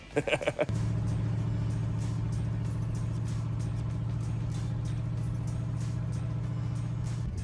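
An old Chevy truck drives along a farm road, heard from inside the cab. A steady, loud engine drone continues for several seconds with a constant low hum. A few brief thumps come at the start.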